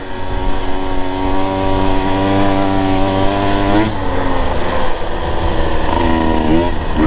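A Husqvarna TE 150 TBI motorcycle being ridden in a high gear: a loud, steady, close engine drone with brief dips in pitch as gears change, continuous throughout.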